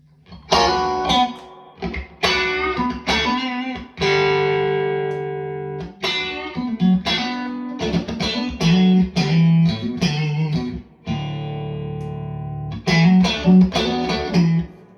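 An electric guitar plays through a Victory V40 Deluxe amp with the mid boost engaged, chords and sustained notes with a driven, slightly distorted tone, loud and close, with brief pauses between phrases.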